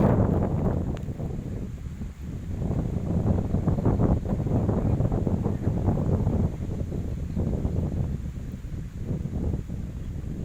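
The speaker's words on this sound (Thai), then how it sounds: "ลมแรงมากครับ ที่สนาม" Strong gusty wind blows across the microphone at an RC model flying field, a loud, continuous buffeting roar with surging gusts, no voices heard.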